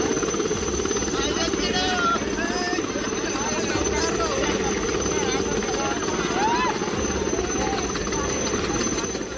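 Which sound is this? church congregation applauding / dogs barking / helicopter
helicopter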